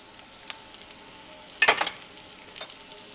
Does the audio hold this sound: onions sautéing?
yes